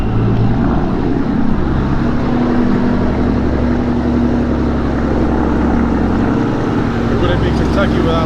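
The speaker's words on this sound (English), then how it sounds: "It wouldn't be Kentucky without a loud pickup truck." A loud pickup truck passes along a small-town street in Munfordville, Kentucky, its engine a steady, heavy roar that fills the whole stretch with low rumble, with a voice faintly beneath.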